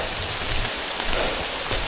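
Heavy rain pours steadily on a slippery, dark mountain trail during a descent, a dense continuous hiss of drops on leaves and ground with soft spatters, close and unbroken.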